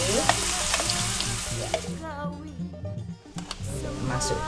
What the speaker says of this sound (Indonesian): Ya, kita masukkan bumbunya. Bawang merah, bawang putih.